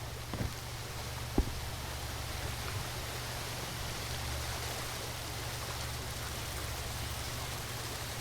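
Waterfall in the video game The Mansion: a faint, steady hiss of rushing water running unbroken throughout, with a couple of small isolated taps near the start.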